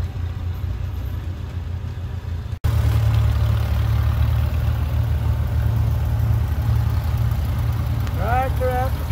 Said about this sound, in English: Tractor after tractor.